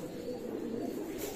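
Chinese Kamagar pigeons in a loft give a low, steady cooing murmur, faint and continuous over a short stretch with no voices.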